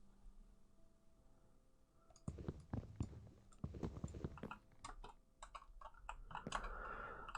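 Repeated sharp clicks of a computer keyboard's shift key, loud and close, in irregular bursts, with quieter stretches before and between them.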